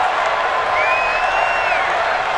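Stadium crowd in the Madden NFL 20 football game, a Philadelphia Eagles versus Dallas Cowboys matchup, roaring and cheering as a big third down approaches: a loud, continuous wash of crowd noise with a faint whistle-like whoop rising through it.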